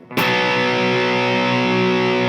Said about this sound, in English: if I throw some distortion on,